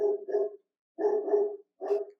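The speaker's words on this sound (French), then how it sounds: "il aime pas le chien quand je dis Dremio" A dog barks in three close, clear bursts, the first two doubled, with short pauses between them and no talking.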